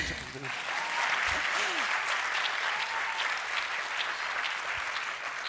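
Audience applause at the POPRI 2022 closing awards ceremony, a steady crowd clapping that runs without a break throughout, filling the hall at moderate loudness.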